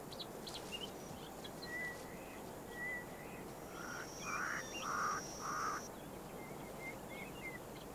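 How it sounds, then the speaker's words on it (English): Out in the Etosha wilds, a pied crow gives short harsh calls now and then against a quiet, steady natural background, with faint chirps from other birds in between. "A pied crow has spotted the situation they're great opportunists."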